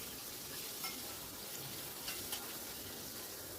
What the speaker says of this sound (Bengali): এইবার দিয়ে দিলাম ম্যারিনেট করা কাতলা মাছের টুকরোগুলো। সামান্য একটু ফ্রাই করে নেব।